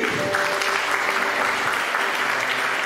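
A church congregation applauds loudly and steadily throughout, a dense, continuous wash of clapping.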